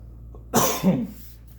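One sharp, close cough followed by a brief rougher second burst, in an otherwise quiet room.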